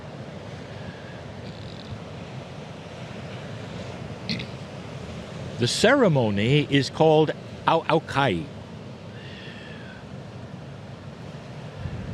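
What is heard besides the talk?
ocean waves and wind at a public beach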